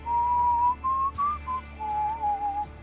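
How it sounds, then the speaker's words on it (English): A thin, steady whistle heard alone and fairly faint, holding a wavering tone in several short broken stretches with brief gaps, no voices present. "You hear this whistling coming from your car."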